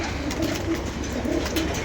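Pigeons coo softly in repeated low calls over a steady background hiss, close and fairly quiet, without talk.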